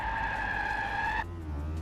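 Tires skid loudly on a car in the MTA multiplayer driving game, a sustained tonal squeal that holds steady for over a second before cutting off, leaving lower engine rumble.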